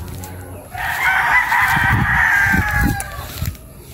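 Young gamecock stags, about four to five months old, on a gamefowl farm in Unisan, Quezon, let out one loud, close, drawn-out crow lasting about two seconds, with low clucks and faint farm noise around it.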